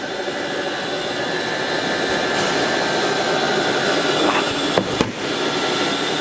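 Extrusion moulding machine running in a shop, its externally fan-cooled electric motor driving an oil pump and reduction gearing that turns the screw slowly; a steady loud whirring drone with a high tonal whine, with a couple of brief knocks near the end.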